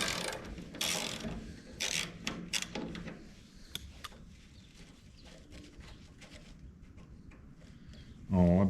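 A ratchet loosens bolts on a manure spreader, with clicking strokes and clanks in uneven bursts early on, then quieter fiddling, close by, and a faint bird call in the background.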